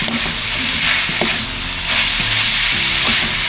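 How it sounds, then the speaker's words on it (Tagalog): Garlic, onion and ginger sauté with ground meat in a hot pan, a loud, dense sizzle running throughout with scattered clanks and scrapes of stirring, up close and without talk. "Pagkatapos natin yung gisa yung bawang sibuyas luya."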